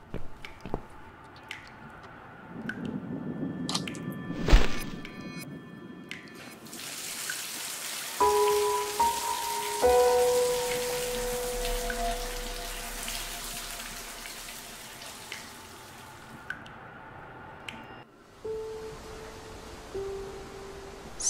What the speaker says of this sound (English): Let's go take a shower.